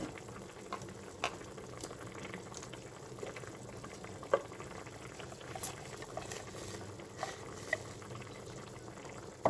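Tomato sauce boils for pasta, a faint steady bubbling with scattered soft pops and plops at irregular intervals, quiet and close, with no talk.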